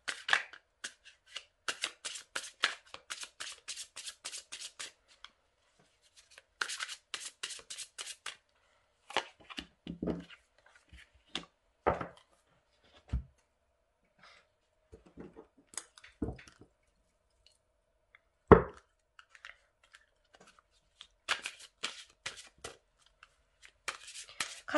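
Tarot cards are shuffled by hand in quick riffling bursts near the start, middle and end, with scattered soft taps and clicks in the quieter gaps between.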